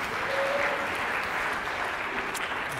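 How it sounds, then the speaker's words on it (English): A conference audience at a session on level of detail calculations gives a round of applause. The steady clapping is moderately loud and fills the full clip evenly, with no voice over it. "So give yourself a round of applause."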